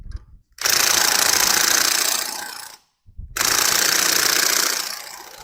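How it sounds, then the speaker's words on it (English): A pneumatic impact wrench with a 28mm socket runs down the piston nut of a Kubota BX23 front loader tilt cylinder held in a vise, two loud sustained buzzing bursts of about two seconds each, split by a short pause. "We're going to use our impact with a 28mm socket"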